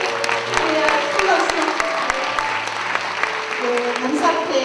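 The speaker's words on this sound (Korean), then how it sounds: "큰" A church gathering's audience applauds in steady, dense clapping while a voice speaks over it, with sharp individual claps punctuating the continuous applause.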